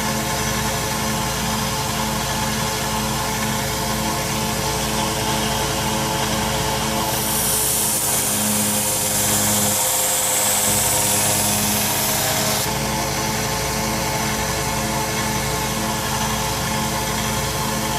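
A 1x30 belt sander grinds a knife edge, a loud, steady machine drone with a brighter, harsher grinding band in the middle stretch as the blade is pressed to the belt.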